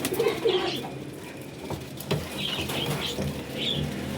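Rooftop flying pigeons coo in low, rolling calls while wings flap in a few sharp bursts, close and fairly loud throughout.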